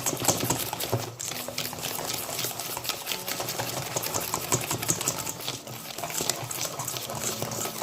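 Pancake batter whisked by hand in a bowl, a steady, busy rapid scraping and tapping of the whisk that runs the whole time, close and fairly loud with no talk.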